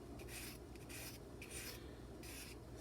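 Faint, rhythmic rasping strokes of 800 grit sandpaper rubbing on the liner lock side of a pocket knife, about five gentle passes with no talking.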